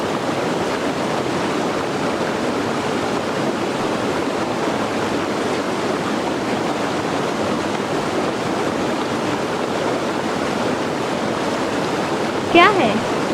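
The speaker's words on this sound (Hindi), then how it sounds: "वो पानी की वॉइस" Water flows steadily among trees in a constant broadband rushing wash, even and unbroken throughout, with a brief faint chirp near the end.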